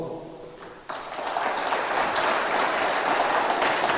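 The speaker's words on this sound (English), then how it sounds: "You may give a very big round of applause." Audience at a launch ceremony bursts into applause after a quieter opening, the clapping swelling into a dense, steady roar that holds to the end.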